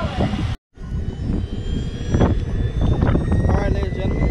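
A Pilot turbine model jet called The Predator roars loudly with a steady, broadband engine rush that briefly cuts out near the start, then builds and holds as it flies. Voices can be heard in the background.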